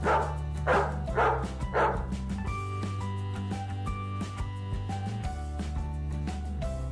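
Dogs bark in four quick, loud yaps near the start, then a tonal electronic melody takes over, with no barking heard beneath it.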